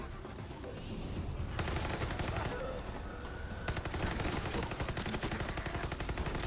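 Rapid automatic rifle gunfire from the video game Far Cry 6, loud bursts that fill nearly the whole stretch with a short lull in the middle, and no talking over it.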